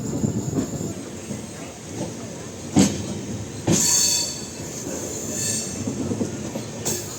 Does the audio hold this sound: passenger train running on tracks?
yes